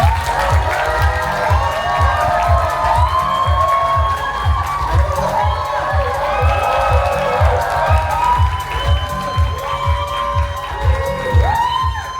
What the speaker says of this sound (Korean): 선생님을 큰 박수로 환영해 주십시오.